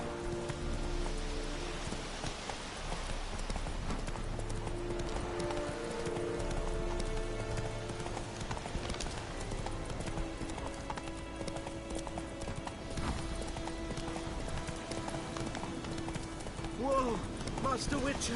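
Horse hooves clip-clop steadily at a gallop in The Witcher 3 open-world game, a continuous close rhythm throughout, with rain and game ambience behind and a voice speaking over it.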